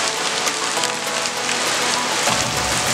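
Rain falling steadily outdoors during a visit to a ceramics centre in Grand-Bassam, a dense close hiss of drops hitting surfaces, loud and unbroken for the whole stretch.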